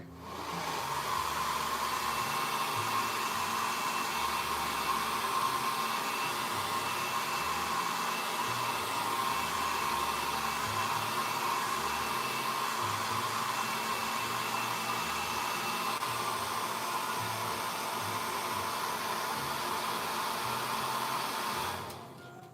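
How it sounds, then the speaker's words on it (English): A hair dryer blows steadily at close range for about twenty seconds, a constant loud whoosh with a whine, then cuts off abruptly. "So forgive me the hair dryer."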